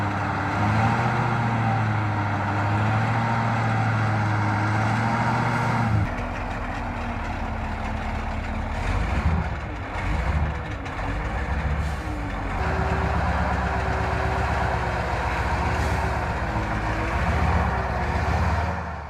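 A heavy dump truck engine runs steadily in a deep forest while hauling a load of wood, a loud continuous low rumble with a gear or load change partway through and no talk.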